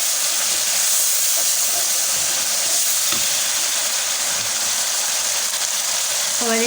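Softened tomatoes are sautéed in a pan while cooking shalgam (turnip) bhujia, producing a loud, continuous hiss and sizzle with a brief scrape near the end.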